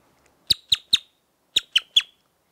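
A Birdyman bird whistle played with a spitting t-t-t tongue gives six sharp, bright chirps in two quick groups of three, close and clear against silence.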